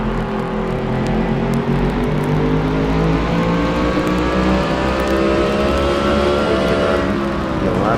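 Race cars accelerating hard through the carousel at Watkins Glen, several engines layered into a loud, continuous roar with rising pitch sweeps, held open on the throttle as they head downhill into the loop.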